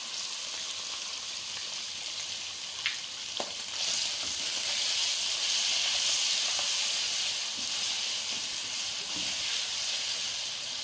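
Mutton sizzles and hisses steadily in heated yogurt in a karahi for a Lahori-style mutton karahi, a dense close frying noise with a few faint clicks and no talking.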